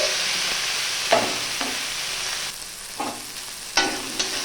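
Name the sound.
frying chopped tomato, coriander leaves and onion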